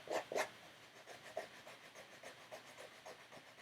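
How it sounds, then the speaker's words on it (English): Very fine sandpaper rubbed over a painted surface, a few quick strokes up front followed by softer, irregular scratchy rubbing, close and quiet with no talking. "I have a fine, very, very fine sandpaper."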